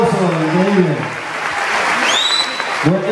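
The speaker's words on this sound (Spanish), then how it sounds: "Fuerte el aplauso, increíble." An audience at the 2017 Cabrales cheese festival gives a short burst of applause between a man's spoken remarks before and after it.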